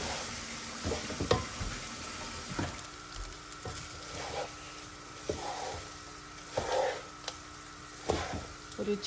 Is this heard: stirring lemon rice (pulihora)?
yes